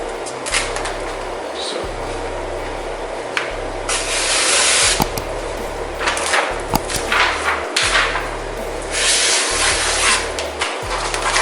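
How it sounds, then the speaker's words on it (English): Short bursts of water sprayed onto coloured PPF wrap film, repeated hisses of varying length over a steady low hum, with some light handling noises between sprays. "spray a little bit of water"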